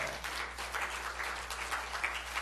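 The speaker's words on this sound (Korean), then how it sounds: "우리 하나님 앞에 감사의 박수 올립시다." Congregation at a Friday evening church service clapping in thanks, a steady mass of applause at moderate level with a low hum beneath, continuous for a few seconds.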